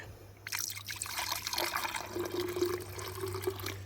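Bleach splashes and trickles steadily into water for several seconds, a continuous pouring sound over a low steady hum.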